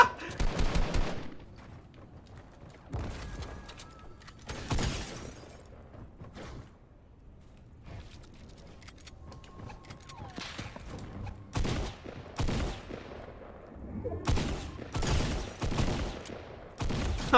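Repeated bursts of gunfire from a Fortnite match, played on Nintendo Switch, crack out in clusters separated by short lulls, loud and close, with no talking over them.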